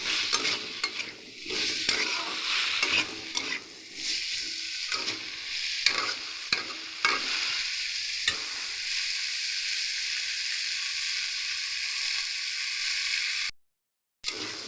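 Vegetarian papaya curry sautés in a pan, a steady sizzle punctuated by repeated scraping and clattering strokes of a spatula, dropping briefly to near silence just before the end.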